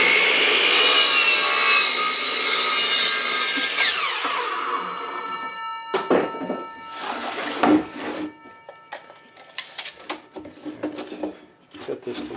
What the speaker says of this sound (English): I'm going to go ahead and cut this end off just to kind of make sure it's squared up.